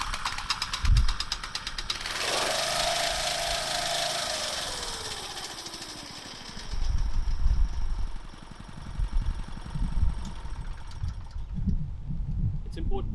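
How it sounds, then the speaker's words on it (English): A professional petrol cylinder reel mower engine is pulled over with its recoil starter, giving a whirring rattle followed by a sustained engine drone that rises and settles, loud and close, with a person talking over parts of it. "You can then grab the handle on the recoil starter and gently pull back."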